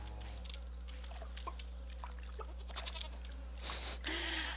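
Retextured goats in Stardew Valley bleat a few times, small and fairly faint, over a steady low game background hum, with a brief louder burst near the end.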